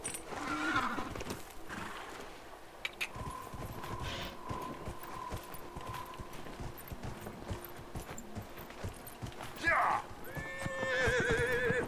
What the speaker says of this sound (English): Eu tenho um cavalo aqui?